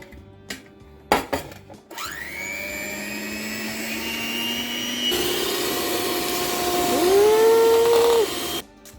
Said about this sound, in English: So I have to whisk the eggs, the egg whites